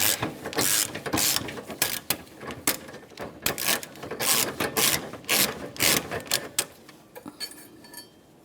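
Ratchet wrench loosening an EGR tube mounting bolt on a 2006-2011 Honda Civic, a close, steady run of rapid metallic clicking bursts with brief pauses between strokes, no talking.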